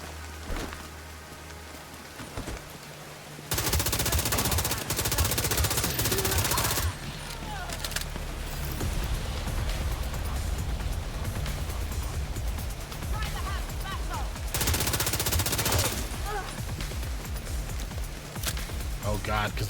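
Rapid bursts of automatic gunfire crackle in a first-person shooter video game, loud rattling volleys separated by quieter stretches, with a player's voice talking at the start and in between.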